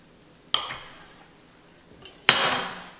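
A knife cutting through cinnamon roll dough, two sharp clunks against the board about two seconds apart, each with a short fading tail.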